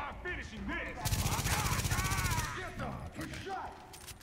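Rapid burst of gunfire from shotguns in The Division, a loud sustained volley lasting about a second and a half amid game sounds, with a voice speaking before and after.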